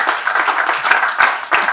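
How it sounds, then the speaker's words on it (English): Brief burst of audience clapping for a professor at a formal gathering with a diplomat, dense and continuous many-handed applause across the whole short stretch. "A round of applause for him."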